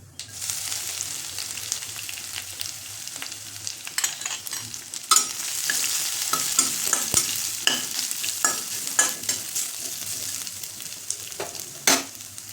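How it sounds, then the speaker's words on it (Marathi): Garlic sautéing in hot oil in a wok sizzles steadily, with frequent sharp scrapes and clinks of a spatula stirring through it, close and continuous with no talking. "तर लसूण छान परतलेला"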